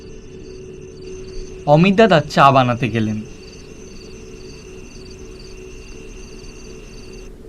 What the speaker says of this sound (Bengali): ঝিঝি পোকার আওয়াজ থেমে গেল হঠাৎ